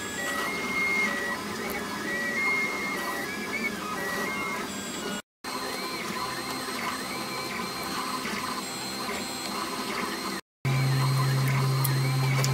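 3D printer laying down a center hub for a tape machine, its stepper motors whining and buzzing continuously with shifting melodic tones, close and steady, broken by two brief cuts and ending on a sustained low hum.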